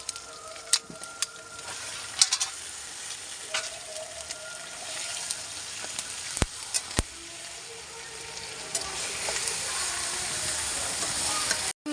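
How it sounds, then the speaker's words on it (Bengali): Marinated meat coated in mustard oil and chili powder sizzles loudly in a hot kadai, a continuous hiss punctuated by sharp spatters and metal clinks of stirring, swelling toward the end; no talking. "এবার কড়ার মধ্যে ঢেলে দিচ্ছি মাংসটা।"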